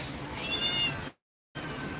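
A mother cat in a garden meows softly a few times, a thin, fairly quiet cry, followed by a brief moment of silence.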